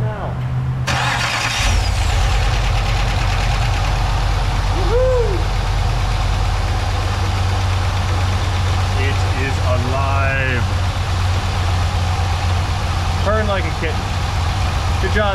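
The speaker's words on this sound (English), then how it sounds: "Let's let us start the engine." A Pontiac GXP with a 5.3 V8 cranks and fires after a brief pause, then settles into a steady, loud, close idle that runs the rest of the way, with talking over it.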